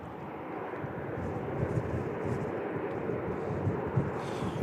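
A Southwest airliner at Louisville International Airport gives off a steady, broad engine roar that holds at an even loudness from start to finish, with no voices.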